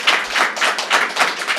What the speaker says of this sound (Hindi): मैं चाहता हूं आप सभी एक बार जोरदार तालियां नीरज चोपड़ा जी के लिए बजाएं पहले